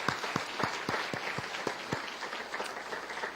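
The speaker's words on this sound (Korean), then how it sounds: "뜨거운 박수 부탁드립니다" A church congregation at a Sunday service claps in thanks, distinct separate claps ringing out in a loose, uneven rhythm over a soft bed of scattered hand-clapping, fairly quiet and roomy.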